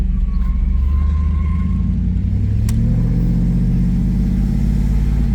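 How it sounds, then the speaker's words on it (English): A 1989 Pontiac Trans Am GTA engine with a slight exhaust leak rumbles low and steady at close range while driving, the pitch climbing gently midway, with no talk. "Still got a little exhaust leak, it sounds like, but not too bad."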